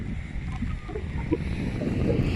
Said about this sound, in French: J'espère que vous entendez pas trop le vent parce que ça souffle pas mal aujourd'hui.